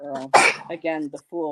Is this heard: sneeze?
yes